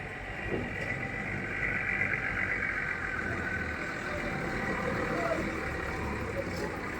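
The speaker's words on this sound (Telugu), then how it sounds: "లారీ వస్తుంది, భయం. లారీ వస్తే భయం దానికి." A lorry approaching along a road, its engine a steady low drone that grows slightly over several seconds, with a voice talking faintly over it.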